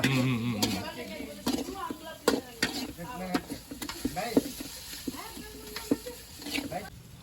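Eggs frying in masala in a pan, sizzling steadily while a spoon stirs and scrapes in irregular bursts, close up, with people talking intermittently over the cooking.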